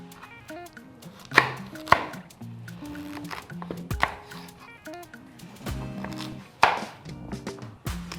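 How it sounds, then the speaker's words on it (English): A sharp knife chops through sweet potato for a yam pottage, several firm cuts landing at irregular intervals against a board, fairly close, over a soft steady background hum. "if your knife is sharp, trust me, it makes it 10 times easier. As you can see, I'm not stressing to cut this."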